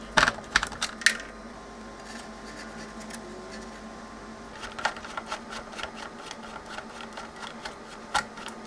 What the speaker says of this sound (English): Just a few more screws to get this board out.